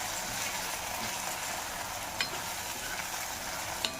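Red chilli and onion frying together in a pan, a steady, even sizzle that runs throughout, with a couple of brief stirring clicks near the end and no one talking.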